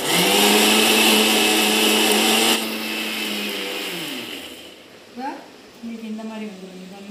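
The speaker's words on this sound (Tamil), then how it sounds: "கொஞ்சம் லைட்டாக வாட்டர் சேர்த்து மிக்ஸ் பண்ணி அரைங்க." An electric kitchen blender grinds palm fruit with a little water for a milkshake, its loud motor whirring steadily before dropping in pitch and spinning down, followed by a few clatters and brief handling noises.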